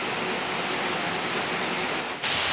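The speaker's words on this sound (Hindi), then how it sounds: "आज अभी भी मतलब यहाँ पे भिवंडी मुंबई में बारिश है।" Rain falling in Bhiwandi, Mumbai, as a steady, dense hiss with no breaks, briefly swelling louder near the end, with no voices.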